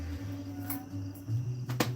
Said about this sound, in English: I don't know if you can hear the crickets in the background